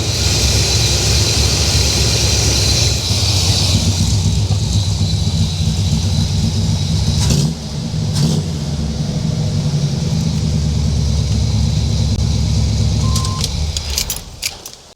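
A carburetted car engine idles steadily with its timing advance returned to stock and idle speed lowered, a loud continuous rumble throughout, with a brief dip partway and a few metallic clinks near the end.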